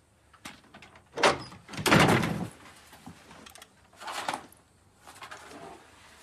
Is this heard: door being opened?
yes